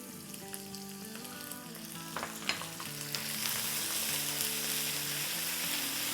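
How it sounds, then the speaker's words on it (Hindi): Oil sizzles steadily in a pan as crushed garlic and ginger are added, a brief clatter of stirring midway, then a louder, denser frying hiss continues to the end. "अब ये रोस्ट हो गई है, तो इसमें हम डाल देंगे 1 टेबलस्पून कुटा हुआ लहसुन और 1 टीस्पून अदरक"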